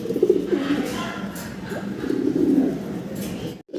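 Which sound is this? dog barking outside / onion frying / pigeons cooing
pigeons cooing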